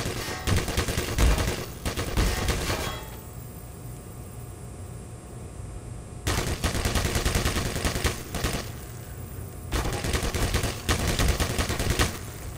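Gunfire and turret shots in the Black Mesa video game come in three loud, dense bursts of rapid shooting, with quieter ambient hum between them.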